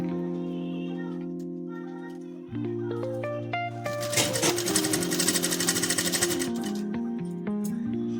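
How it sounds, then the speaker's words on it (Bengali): A sewing machine stitches the sleeve of a child's frock, starting with a steady motor whir and then breaking into a loud, fast, continuous rattling run. The sound is close and has no talk over it. "এবার আমি সেলাই করে নেব।"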